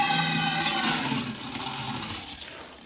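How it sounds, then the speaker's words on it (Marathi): Plenty of water pours from close by into a large container of ration wheat, soaking the grain for kurdai. The loud, steady gushing rush fills the whole stretch and eases off slightly toward the end, with no voices. "आता आपल्याला भरपूर पाणी ओतून घ्यायचं या। गव्हामध्ये मी इथं भरपूर पाणी ओतून घेतलेले।"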